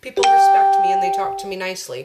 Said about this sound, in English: That is my doorbell, and I'm not expecting anybody.